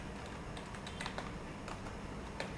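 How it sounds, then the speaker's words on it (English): Rapid keyboard typing on a computer, a steady run of soft key clicks with a few louder taps, close and alone without any talk. "so I go ahead and type"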